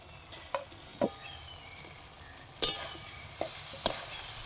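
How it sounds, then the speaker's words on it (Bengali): Fried prawns going into a thick, oil-releasing masala and stirred, heard as a handful of sharp, spaced utensil clinks and scrapes over a low, faint sizzle, close by with no voices. "এর মধ্যে আমি এবারে এই ভাজা চিংড়িগুলো দিয়ে দেবো।"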